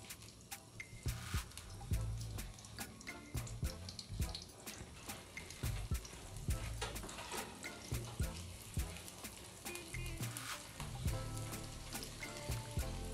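Egg fries in oil in a pan for fried rice, giving a steady, close crackling sizzle with scattered sharp pops and faint scraping.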